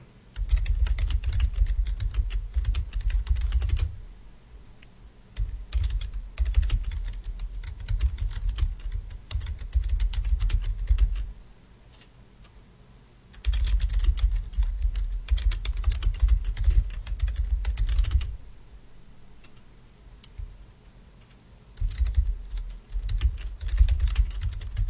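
Steady typing on a computer keyboard, bursts of rapid key clicks broken by short pauses, close and clear with no talking.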